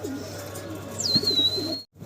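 A pigeon coos once near a breeding farm's lofts, a short, low call followed by a thin rising tone and a sudden cutoff.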